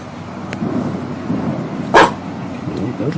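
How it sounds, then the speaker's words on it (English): A single sharp dog bark rings out at a distance over a low background rumble, otherwise quiet. "Those dogs are barking."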